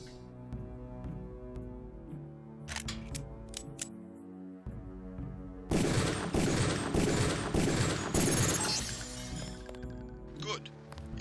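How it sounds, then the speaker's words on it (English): Pistol shots at training targets in Deus Ex, sharp reports scattered over game music with a burst of breaking and shattering as a target is destroyed; a voice speaks in between. "Release the first target and take a few shots with one of the pistols until it is destroyed"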